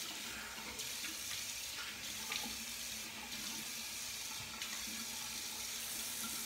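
A tap runs steadily into a sink for rinsing after a shave with a stainless safety razor, a continuous close hiss of water with slight shifts as the stream is interrupted, no voices.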